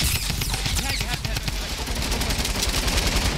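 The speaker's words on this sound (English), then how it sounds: "Oh, someone is shooting me." Rapid automatic gunfire in Fortnite crackles in dense bursts throughout, loud and continuous, with players talking over the shooting.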